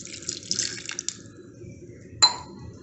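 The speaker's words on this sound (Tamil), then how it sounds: "அதில் இப்போ வந்து நம்ம தேவையான அளவு தண்ணி ஊற்றி வேக வச்சுக்கலாம்." Water is poured into a pressure cooker holding small carrot pieces, making a splashing, gurgling run for about a second, then a quiet stretch, followed by one brief final splash.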